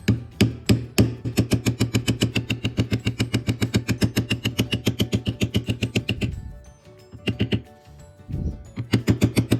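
A leather floral carving of a sunflower on spur straps is beveled, giving rapid, evenly spaced mallet taps on the tool, loud and close, with a short pause before the tapping resumes.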